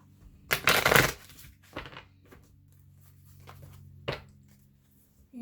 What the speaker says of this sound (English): I'm going to choose some of the Psychic Tarot of the Heart